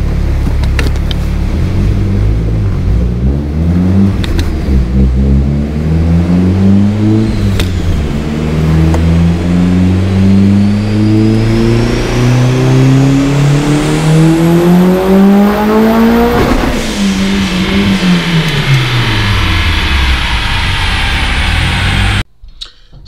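Turbocharged first-generation DSM engine with a six-bolt block, BC 276 cams, 1200 cc injectors and a Walbro 450 fuel pump, running about 27–28 PSI of boost on a dyno. It climbs through a long, loud wide-open pull, eases off and cuts to silence.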